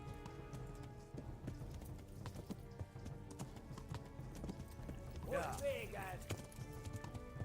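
Galloping horse hooves in the video game Kingdom Come: Deliverance, a steady quiet clip-clop under game noise and talk, with a brief whinny-like cry partway through.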